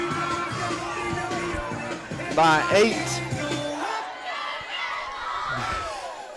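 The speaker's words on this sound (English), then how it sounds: "And the crowd here at Torbert Field is going wild." Spectators at a Friday night playoff football game at Torbert Field cheer and shout at night under the lights, a moderately distant roar that swells briefly and then thins, with a commentator talking over it.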